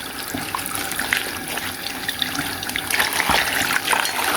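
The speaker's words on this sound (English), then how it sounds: "to rinse them out in some lukewarm water" Mermaid dolls are rinsed in lukewarm water. Water runs and splashes steadily and close by, with trickles and sloshes as the dolls are moved about, and no one speaks.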